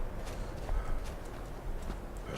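Horse hooves clip-clop in Skyrim in a quick, uneven rhythm, fairly faint and close, with a soft background hum.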